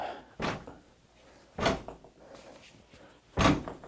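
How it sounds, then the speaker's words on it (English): A body wearing butt padding slams into a fire-rated door three times, each a dull, heavy thud with a short rattle, spaced about a second apart and fairly close. "I'm gonna try that against this fire rated door here."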